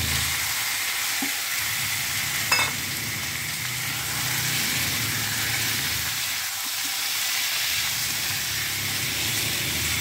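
Chicken marinated in vinegar sizzles steadily in hot mustard oil in a pan, a loud continuous frying hiss with a brief clatter of stirring partway through.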